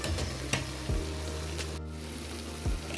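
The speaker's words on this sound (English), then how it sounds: "I will add my blanched vegetables" Blanched vegetables land in a pan of cooking minced meat and tomatoes, bringing a loud close sizzle and frying crackle with a few stirring scrapes.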